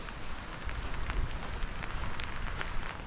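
Rain patters steadily on a rain jacket at night outdoors, a dense, continuous crackle of drops with sharper individual taps, close and fairly quiet, with no talking.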